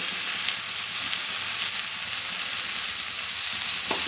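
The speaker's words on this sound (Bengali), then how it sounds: "দিয়ে ভালো করে বেগুনটা কষিয়ে নেব মশলার সঙ্গে" Eggplant fries with spices for a fish head curry, giving a loud, even sizzle close to the pan throughout, with faint stirring and no speech.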